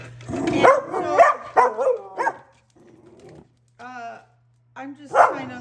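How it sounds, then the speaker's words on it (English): A dog named Oliver barks several times in sharp bursts nearby, then gives softer whimpers and yips with a final bark. Someone talks over part of the barking. "What are you barking at, Oliver?"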